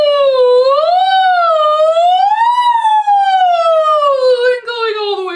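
Human voice imitating a siren during a vocal warm-up, a loud, clear, sustained tone sliding smoothly up and down in pitch, alone.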